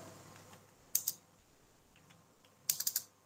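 Typing on a computer keyboard while entering figures into an Excel bill. Two quick bursts of crisp key clicks sound close and clear against a quiet room, a pair first and then a rapid run of four or five.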